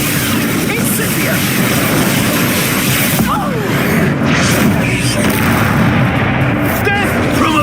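Spell blasts from the Hogwarts Legacy video game: a dense, continuous rumble of booming impacts and bursts with game ambience and a voice beneath, loud throughout without clear gaps.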